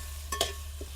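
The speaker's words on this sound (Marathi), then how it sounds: "आता टमाटे पण आपल्याला चांगलं परतून घ्यायचं आहे." Grated tomato and onion sautéing in a pan, with a brief scrape of stirring over a soft sizzle, close and short.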